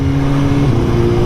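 Suzuki GSX-S 750 motorcycle engine pulling steadily in second gear around 4,000 rpm with a quickshifter, a loud, close, continuous drone that shifts pitch partway through as the gear changes, with no talking over it.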